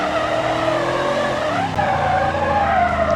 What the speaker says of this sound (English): Can't really do a burnout for too long in some cars because it'll overheat the clutch.